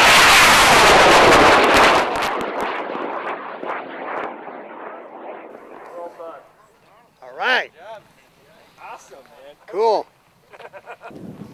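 A model rocket launch at the ARLISS 2009 desert event, a loud roaring rush for about two seconds that fades off into the distance, followed by people talking and calling out.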